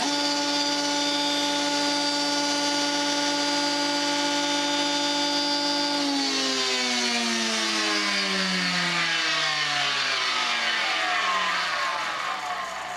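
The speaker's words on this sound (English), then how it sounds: "mine is not powered by a brushed planer motor, but by a 4 horsepower induction motor" A homemade wooden jointer driven by a 4 horsepower induction motor hums with a steady tonal whine, then after about six seconds the pitch slides steadily downward as it spins down, loud and close with no talking.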